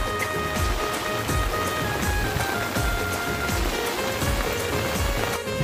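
Heavy rain pours steadily onto a rice field beside a rising river, a dense, loud, unbroken patter of drops spread across the whole span with no voices.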